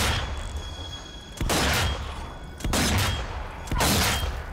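Rifle gunfire in Zombie Army 4 on medium difficulty with an upgraded rifle: three loud, sharp shots spaced over a few seconds, each a broadband blast with a ringing decay over a low game rumble.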